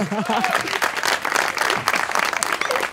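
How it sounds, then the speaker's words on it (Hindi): A studio audience applauds in a dense, continuous patter of clapping at a television talk show, with voices mixed in throughout. "ताली"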